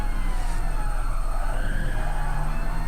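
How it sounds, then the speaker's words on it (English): A Mazda RX7 in Gran Turismo VR at Monza, running a time trial, with a steady high turbo whistle riding over a constant loud engine drone, continuous and unbroken. "But this RX7, when the turbo starts whistling, it just sounds so great."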